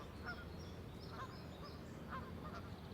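Geese honk in a city, a scattering of distant repeated honks faintly rising over a steady low urban rumble.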